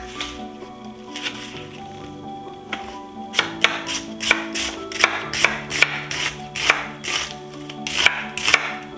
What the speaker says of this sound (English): I like lots of onion in this, so I'll probably use the whole thing. Just roughly chop it.